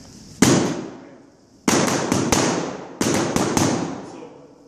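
Double rattan sticks strike a training bag in 4-count sinawali drills, sharp loud cracks in quick clusters: one hit, then a burst of four rapid strikes, then another group of four, with no voices.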